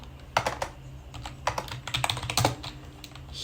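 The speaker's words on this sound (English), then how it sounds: "you can simply go to the terminal and you can write here pip install" Fingers typing a command into a terminal on a computer keyboard: quick, irregular clusters of close, crisp keystrokes with short pauses between bursts, and no talking.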